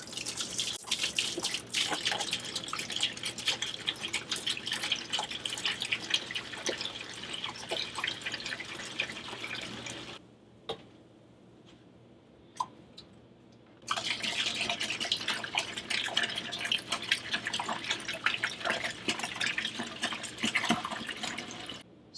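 Two gallons of white vinegar poured into a bucket: a steady splashing pour that stops near the middle, leaving a quiet gap with a couple of drips, then a second loud pour resumes to the end.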